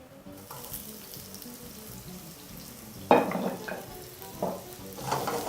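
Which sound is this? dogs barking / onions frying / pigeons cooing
onions frying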